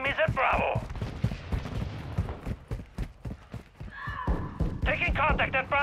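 Rapid gunfire in Call of Duty: Modern Warfare II rattles in dense, evenly spaced shots through most of the scene, close and loud, while radio-style voices call out over the shooting.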